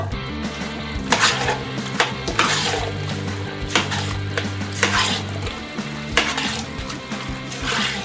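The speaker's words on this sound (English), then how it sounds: "I'm going to add a second can of these chili beans." A can of chili beans slides into a pot of chili, followed by stirring with clinks and scrapes of a utensil against the metal. The sounds are close and fairly loud, with no voices.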